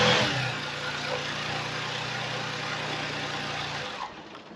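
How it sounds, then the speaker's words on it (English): A car engine runs after being started with a portable jump starter, a steady close idle hum at first that fades toward quiet at the end. "The car started up."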